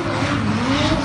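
A drift car's tires squeal with a constant high screech over a strained engine roar, loud and close, in one short uninterrupted burst.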